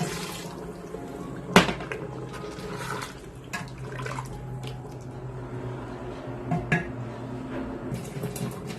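Lukewarm water is poured into a pan of chana dal being fried for dal gosht, giving a soft sizzle and liquid wash with a few clinks of utensils on the pan, low and close with no talk.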